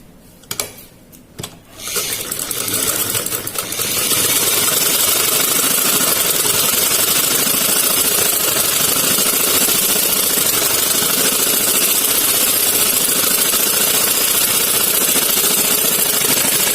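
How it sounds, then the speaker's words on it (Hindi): Following a short stretch of quieter handling noise, a sewing machine starts up and runs continuously and loudly at close range, stitching over a foam strip on a salwar. "हम इस फोम पट्टी के ऊपर यहाँ से एक सिलाई लगा लेंगे पहले।"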